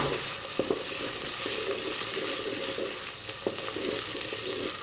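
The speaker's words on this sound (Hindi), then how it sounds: "जी लहसुन भून चुका है, कच्चापन ख़त्म हो चुका है," Garlic frying in oil in a pan for potato pulao, a continuous hissing sizzle with a few light clinks of stirring, close and steady with no talking.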